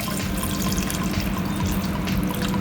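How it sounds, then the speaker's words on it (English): Lots of water pours steadily into a cooking pot of mutton nihari, a continuous splashing gush heard close up with no talking. "And now I shall add lots of water"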